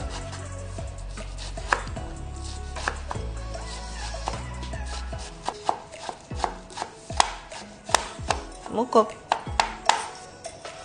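Ikong leaves for Edikang Ikong soup are chopped with a knife on a board, first in quick soft cuts, then in a run of sharp, evenly spaced close knocks. A voice speaks lightly in the background.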